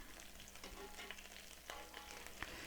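Lentil rice patties fry in a pan with a steady, soft sizzle and scattered small pops and crackles, no talk over it.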